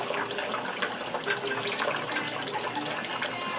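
Water splashing and trickling in a backyard fountain, a steady close wash of moving water with no pauses.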